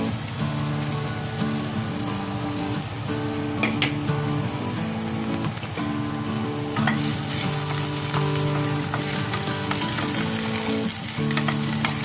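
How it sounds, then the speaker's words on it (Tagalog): Sliced ginger stir-fried in hot oil while preparing Chinese duck soup, a steady dense sizzle with occasional clatter of a spatula stirring, close and continuous with no voices. "Ayan, stir-fry natin yung luya."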